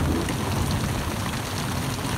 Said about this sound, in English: With another rain shower? Lovely and refreshing. Listen to that thunder.